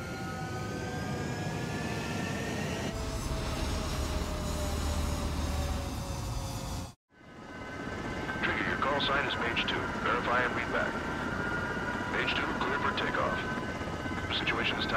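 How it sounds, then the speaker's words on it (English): Jet fighters roar off the runway in Ace Combat 7, a loud sustained engine whine and rumble that cuts out briefly, then returns with radio chatter speaking over it. "Hear that? Column Squadron and your wingmen are airborne."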